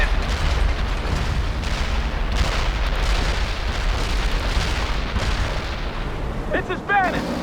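Tank buster air strike in the World in Conflict video game: loud, continuous rumbling explosions and booming blasts that fill the whole stretch, with a brief whistling whine near the end.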